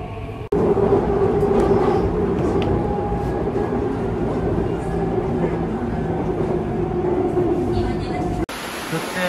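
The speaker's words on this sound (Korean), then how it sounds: "지하철 탑승 완료." A subway train rumbles steadily from inside the car, a loud continuous roar with a faint hum that cuts off abruptly near the end; no one talks over it.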